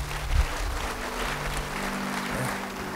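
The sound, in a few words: congregation applause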